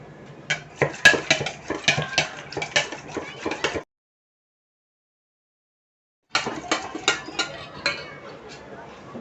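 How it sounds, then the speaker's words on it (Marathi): Curd being churned with a wooden churner in a vessel for spiced buttermilk, producing rapid, loud rhythmic clattering and knocking in two bursts separated by a few seconds of silence. "आता रवीने मी घुसून घेते"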